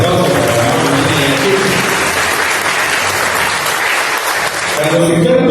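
Loud, sustained applause from a cooking-event audience, dense steady clapping filling the whole stretch with a murmur of voices underneath.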